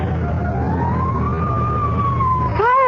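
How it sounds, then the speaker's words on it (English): Fire engine siren wailing loud and near, a long rising and falling tone over a rumbling engine and traffic, with a quicker yelp starting at the end. "Fire engine?"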